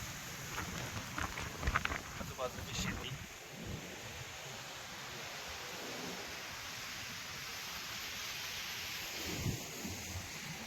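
Heavy rain pours near the flooded Godavari river at Mahegaon Deshmukh, a dense, steady broadband hiss with a wind-like rumble and a few low thumps early on.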